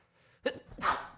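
A single sharp human sneeze with a short inhale before it, close and clear in a quiet room during a podcast conversation.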